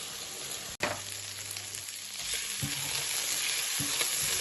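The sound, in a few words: chicken stir-fry being stirred in pan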